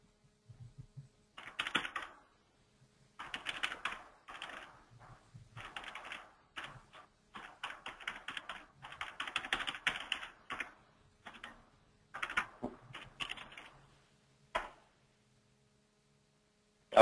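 Bursts of fast typing on a computer keyboard, quiet and close, with short pauses between runs of keystrokes and no talking.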